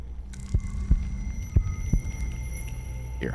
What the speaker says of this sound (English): Your heartbeat.